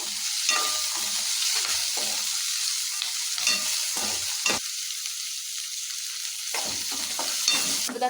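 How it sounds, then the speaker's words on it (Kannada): Raw masala frying in hot oil for egg masala, a steady close sizzle with repeated scraping and stirring strokes of a spoon in the pan, no voices. "ಇದನ್ನೆಲ್ಲ ಹಸಿ ಮಸಾಲೆ ಸ್ವಲ್ಪ ವಾಸನೆ ಹೋಗಿ ಸ್ವಲ್ಪ ಕೆಂಪು ಬಣ್ಣ ಬರೋ ತನಕ ಎಣ್ಣೆ ಫ್ರೈ ಮಾಡಬೇಕು"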